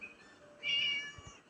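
A cat meows once in the Scary Teacher 3D game, a clear, mid-loud cry standing out over a quiet game background hum.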